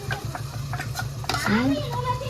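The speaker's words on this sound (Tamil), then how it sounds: "மசாலா போட்டாச்சு இது நல்லா பச்சை வாசனை போக வதங்கட்டும்" Ground masala is stirred and fried for a chicken curry in a home kitchen, a soft scraping and sizzling in a pan, close by, with a voice briefly speaking over it.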